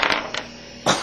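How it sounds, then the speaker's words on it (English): Dice rolled for a board game clatter in a few quick bursts of hard clicking and rattling, a short burst at the start, a small tap midway and a louder tumble near the end, close by with no talk. "we'll just roll dice, so let's see who goes first."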